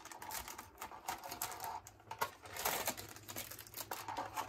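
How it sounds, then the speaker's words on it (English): Crinkling and peeling plastic packaging off a HALO Spartan Athlon product, a busy run of close, dry crackles and snaps with steady rustling throughout. "Let me pull it out of the plastic because there's a lot of glare for me to see. I'll just peel it out."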